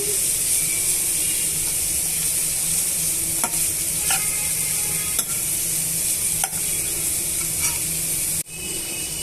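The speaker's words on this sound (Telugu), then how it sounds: "కొంచెం క్యారెట్ తురుము తర్వాత కొంచెం క్యాబేజ్ తురుము ఉల్లిపాయ ముక్కలు తర్వాత పచ్చిమిరపకాయ ముక్కలు ప్యాన్లో వేసుకొని వేయించుకోవాలండి" Grated carrot, cabbage, onion and green chilli fry in a pan, sizzling steadily and loud with an even hiss, broken by occasional scrapes and clicks of stirring and no speech.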